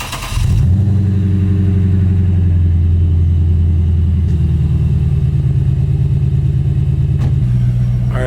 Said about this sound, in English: let y'all hear that nice mean cold start